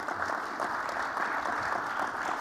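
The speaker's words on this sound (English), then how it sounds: "let's give a huge round of applause to our panelists." Audience applause for panelists after an enterprise security conference session, a dense steady patter of many hands clapping at moderate volume with no talking over it.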